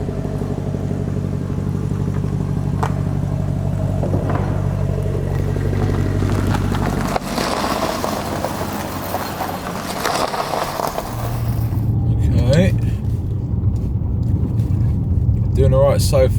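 Maserati Quattroporte on a test drive after engine repair work, a steady engine and road drone from inside the car that shifts in tone partway through, with people talking over it.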